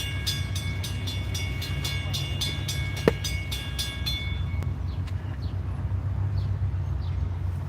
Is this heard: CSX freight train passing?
yes